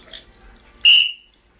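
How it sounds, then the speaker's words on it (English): A single sharp, shrill whistle blast rings out loud and close, lasting about a third of a second after a faint chirp, with no talk over it. "Where's my whistle?"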